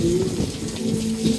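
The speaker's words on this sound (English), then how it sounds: "Yeah, it raining hard." Heavy rain falls steadily in a brief, continuous wash with no voices over it.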